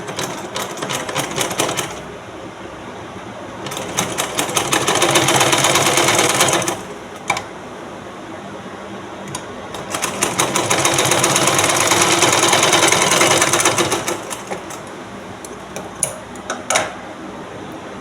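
A sewing machine stitches a blouse patti in two long runs of rapid, steady clatter, separated by quieter pauses with light handling clicks, close and clear with no talking.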